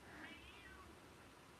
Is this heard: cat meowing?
yes